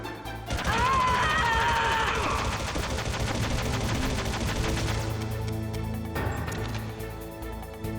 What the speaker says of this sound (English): I'm gonna shoot all these guys real quick